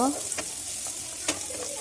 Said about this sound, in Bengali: কাঁচামরিচ কুচি এবং পেঁয়াজ কুচি দিয়ে একটু নেড়ে নেব